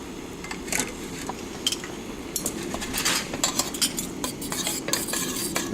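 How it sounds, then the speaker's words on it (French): Thick cream being worked into a hot pan of pepper-sauced beef steak with metal tongs, giving steady scraping and stirring with frequent light metallic clinks against the pan over a faint sizzle. "je vais incorporer cette crème avec ma pince"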